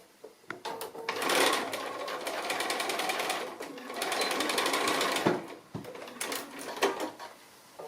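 A sewing machine double-stitches a fabric bag, running in several loud bursts of rapid mechanical whirring with short pauses between them as the seam is turned and sewn back.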